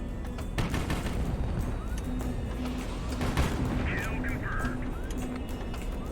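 Loud, chaotic video game combat with dense rapid minigun fire and booming missile explosions, a constant wall of gunfire noise over the whole stretch, with a voice talking intermittently.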